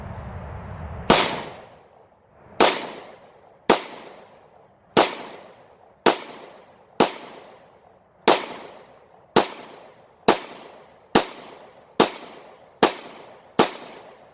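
A Taurus TH9C pistol firing factory 124 grain ammunition: about twelve loud, sharp shots in a steady string roughly one second apart, each followed by a short ringing decay, no talking.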